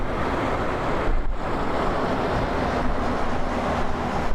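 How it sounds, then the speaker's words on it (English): Steady wind gusting at Toronto Pearson Airport, a loud broadband rushing roar buffeting the microphone continuously, with a brief dip around the middle and no voices. "Wind is picking up."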